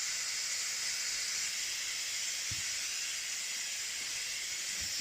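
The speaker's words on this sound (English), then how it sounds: "You can see the pressure valve is looking this way. So it's releasing pressure and it won't burn you." Pressure cooker valve releasing steam, a steady loud hiss throughout with a couple of faint knocks underneath.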